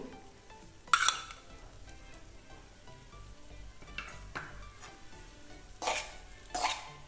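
Besan barfi mixture with ghee stirred in a pan, soft scraping and faint sizzle with a few louder spoon-against-pan clatters, quiet overall.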